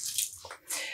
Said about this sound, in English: I'm just going to squeeze out the water.